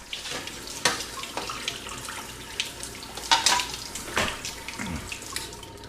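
Water from a kitchen tap runs steadily in a sink, with irregular splashes and clattering bursts as things are rinsed under the stream, fairly close and with no voices.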